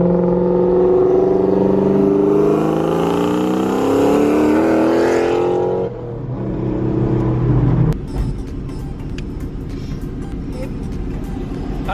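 A car fitted with Borla Stinger mufflers revs hard on rollers, its exhaust roaring loud and close. The engine note climbs and falls, then gives way to a rougher rumble and clatter.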